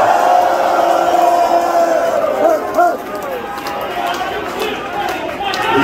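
A crowd at a rap concert in Paradise Rock Club, Boston, roars and shouts loudly and continuously, a dense wall of cheering with whoops rising through it.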